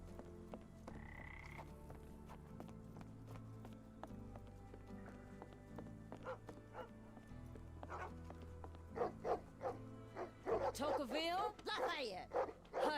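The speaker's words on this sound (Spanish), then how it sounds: "Tiene 2 perros." A pair of dogs bark in the game Sherlock Holmes The Awakened, set in a New Orleans shack on a boat, their loud, repeated barks building near the end over low ambient music and game voices.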